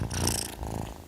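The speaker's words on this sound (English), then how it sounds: "Cozy cats." A domestic cat purrs close up in a steady, rumbling rhythm for about a second, loud and alone with no talk over it.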